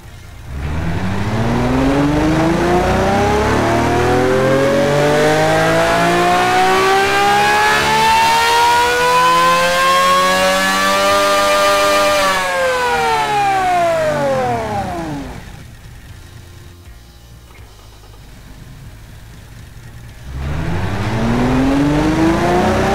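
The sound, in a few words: 4-litre naturally aspirated V12 engine revving in Automation video game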